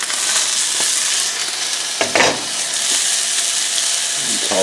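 Bean sprouts and chicken stir-fry in a hot pan with a continuous bright sizzle, marked by a few louder scraping, stirring sweeps of the utensil.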